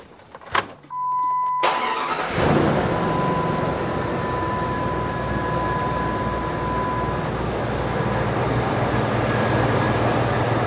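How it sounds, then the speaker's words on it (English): A car engine cranks briefly, catches, and settles into a steady idle that runs on continuously, with a faint whine ringing over the engine hum during an alternator test. "when I start it and run the engine"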